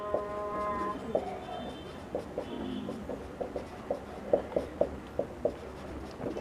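Pen writing out an operations research solution, a series of short, sharp taps and strokes in an irregular rhythm, close and moderately faint.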